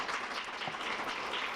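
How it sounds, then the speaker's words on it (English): Audience applause at an anniversary event for a program, a soft continuous patter of many hands clapping, moderately distant and steady. "give a round of applause for founding the program"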